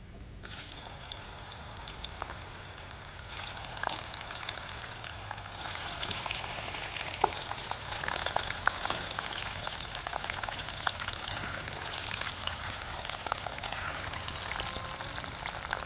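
Okra frying in hot oil at a stove, a steady dense sizzle and crackle running continuously throughout at moderate loudness, with no voice over it.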